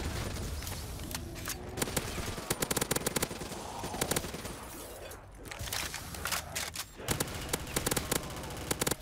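A Death Machine minigun in a zombies shooter fires in long, rapid, continuous bursts, a loud dense rattle with short breaks, layered with game effects.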